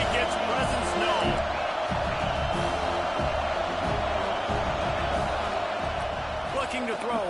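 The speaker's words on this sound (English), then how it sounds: "This crowd ready to make its presence known." Stadium crowd in the College Football 26 video game during a Texas versus USC matchup, a steady loud roar with scattered cheers that fills the whole stretch without letup, with commentary voices over it.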